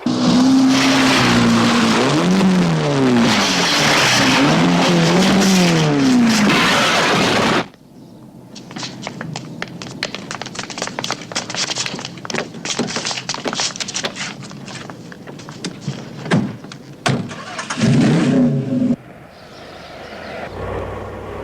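A race car engine screams at high revs, its pitch sweeping up and down as the steering fails, then cuts to sharp tire squeals and skidding crashes in bursts, loud and close, with no talk over it.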